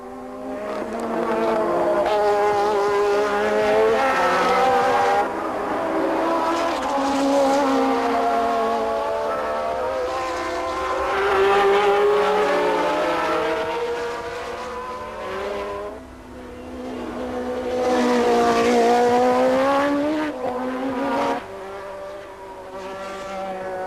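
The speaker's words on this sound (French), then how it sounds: "la meute des moteurs atmosphériques lancés à ses trousses, mais dépassés en vitesse pure par les moteurs turbo" Race cars with turbocharged and naturally aspirated engines scream past in a continuous high-pitched engine roar that swells and fades as the pack passes, loud with no voices.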